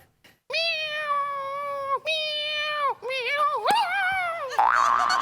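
A person imitates a cat, giving several long, drawn-out meows in a row, loud and close, with a brief spoken bit at the end.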